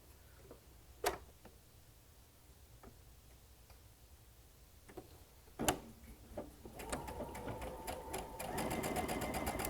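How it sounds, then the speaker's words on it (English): A sewing machine stitches fabric while a seam is sewn up to the edge of a turning opening and locked. A few sharp clicks and taps come first, then a steady, close mechanical whir that grows busier and louder toward the end. "So I'm stitching up to the edge of my opening, lock that, jump over my opening"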